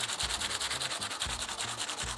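Close, loud sanding of an e-MTB bike brake disc with sandpaper, a rapid rhythmic back-and-forth rasp repeating steadily with no voices.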